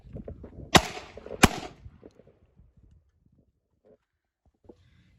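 Two sharp, loud shotgun blasts from a Beretta 1301 at an outdoor range, spaced about a second apart, followed by faint handling clicks and quiet background.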